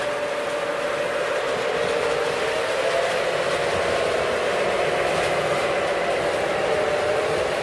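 A train rolls past steadily with a caboose at the rear, a continuous loud rumble and rail noise filling the whole stretch without a break.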